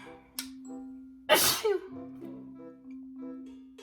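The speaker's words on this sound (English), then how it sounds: "I have to sneeze." A single loud, close sneeze bursts out over a steady low hum, followed by a short breathy tail.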